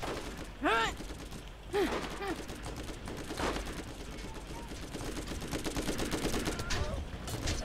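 Gunfire in the shooter game Borderlands, with bursts of shots and mechanical clatter mixed with game effects, moderately loud but sitting behind the general game noise.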